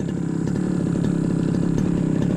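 A grass cutter's small engine runs steadily nearby in a corn field, with a loud, rough, buzzing drone and no speech over it.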